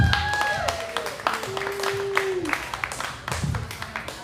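Audience applause and scattered clapping in the Comedy Simulator video game, a crowd cheering a performer onto the stage, running steadily under an announcer's voice and other chatter, with sharper claps popping through.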